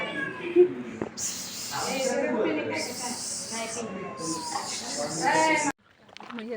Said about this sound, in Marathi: अण्णांची एकदम क्यूट मांजर नुसती ओरडते